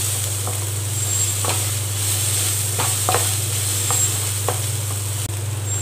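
Shredded cabbage and carrot sizzle in a pan while a spoon stirs them, a constant frying hiss broken by soft scraping strokes over a low steady hum.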